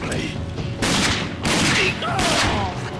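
Rapid bursts of gunfire in the shooter game Rage, three loud close volleys of automatic fire with short pauses between, over a busy game soundscape.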